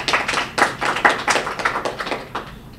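Scattered clapping at a press conference for an Easter festival, a handful of distinct, fairly close claps in an uneven rhythm rather than a full ovation.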